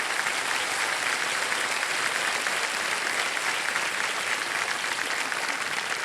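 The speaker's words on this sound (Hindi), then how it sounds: "तालियां बजती रहे देवी संध्या।" Studio audience applause on a televised quiz show, a dense steady wash of many hands clapping without pause, fairly loud and alone with no voices.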